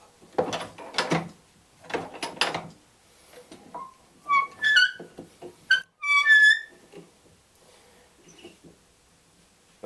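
A gun is clamped into a clamp, with a close series of clunks, ratcheting clicks and short metallic squeaks as the clamp is worked and tightened, separated by brief pauses.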